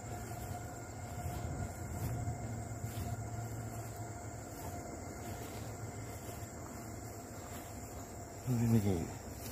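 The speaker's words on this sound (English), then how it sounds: "where we could see the train going by" A distant train rumbles steadily past a vineyard beneath a constant chorus of insects, with a brief louder burst near the end.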